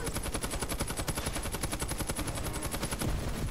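A rapid, unbroken gun barrage from Moze's weapon in Borderlands 3, with evenly spaced shots hammering out in a fast, machine-gun-like rhythm at a steady level throughout.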